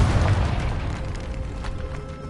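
A Confringo blasting spell goes off in the Hogwarts Legacy video game, a fairly loud, rumbling blast at the start that gradually fades away over a couple of seconds.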